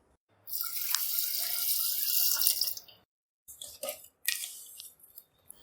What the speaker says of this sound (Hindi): 1 गिलास के करीब हम पानी ऐड करेंगे।